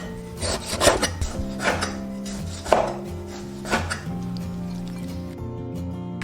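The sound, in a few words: knife slicing pork belly on a cutting board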